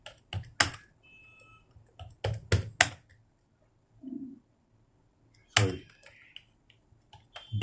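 Keys clatter on a computer keyboard during slow Hindi typing practice, short clusters of close taps separated by quiet pauses, with a brief faint murmur in between.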